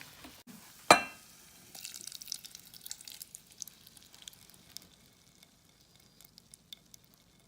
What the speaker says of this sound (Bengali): লিকুইড অবস্থায় আমি মোল্ড যেটার ভিতরে বসাবো সেখানে ঢেলে দিচ্ছি।